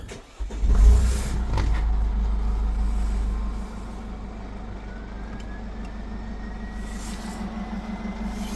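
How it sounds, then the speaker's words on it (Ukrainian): Mercedes-Benz Sprinter 907 van engine cranking and catching, then a loud low idle that settles to a steady, quieter diesel hum, heard close up with no talking. "Тепер можна заводити машину."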